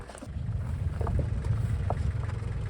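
A steady low tractor engine rumble drones continuously on a farm field, close and fairly loud, with faint clanks over it and no talking.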